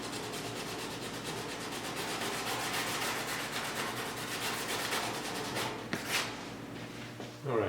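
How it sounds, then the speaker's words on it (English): Hand sanding the fiberglass-patched bonnet bodywork of a 1972 Triumph GT6, a steady rhythmic rasping of back-and-forth strokes, close and even, ending with a few knocks as the sanding stops. "let me sand this inside as well"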